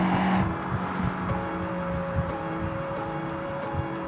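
A Volkswagen A59 Golf prototype under way, with a steady engine drone and faint tonal whine holding through the whole stretch at an even, moderate level.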